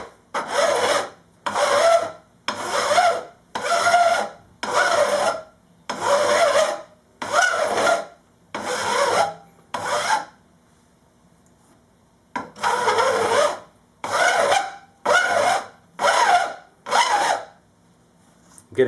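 A metal file rasps along guitar frets during a refret, in long rhythmic back-and-forth strokes, loud and close and evenly spaced, with a pause of a couple of seconds before the strokes resume.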